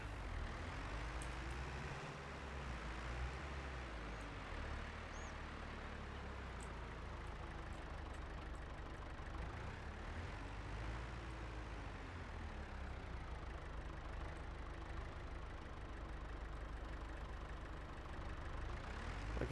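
A John Deere 710 tractor engine in Farming Sim 2022, plowing a field: a steady low droning hum with slow rising and falling pitch as the load shifts, faint and continuous throughout.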